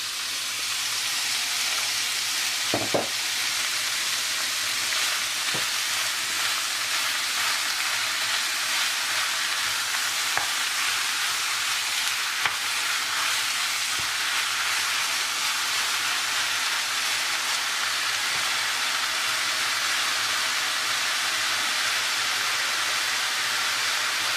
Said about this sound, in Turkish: Tavamızı önce ısıtalım ve bu cız sesini duyalım.